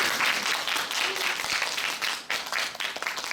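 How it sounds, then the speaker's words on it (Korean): An audience applauds after an alumni lecture, producing a full, steady wash of clapping from many hands that stays loud throughout and thins slightly near the end. "오늘 강의해주신 우리 동문 선배한테 박수 한번 크게 주시죠."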